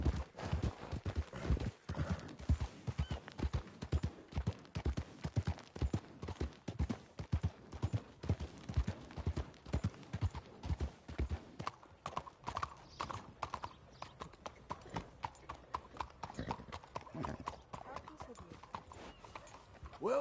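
Rapid, steady clip-clop of horse hooves on a hard surface in the video game Red Dead Redemption 2, close and continuous, with a brief neigh and some talking partway through.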